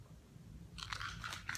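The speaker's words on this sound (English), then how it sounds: "Our dog likes to chew the caps off of plastic bottles" A dog chews a plastic bottle cap close by, giving quiet, irregular crunching bites. Soft low background noise runs under the crunches.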